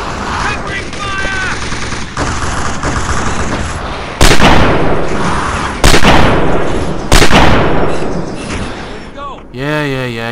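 Rapid gunfire and heavy impacts in the shooter game Halo 1 SPV3, sustained bursts punctuated by three loud slamming blasts, with a voice talking over the combat noise.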